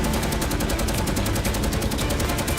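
Bow machine gun of a bomber firing at attacking German Focke-Wulf 190 fighters: a loud, continuous rapid burst of evenly spaced shots rattling close up, with no pause across the whole stretch.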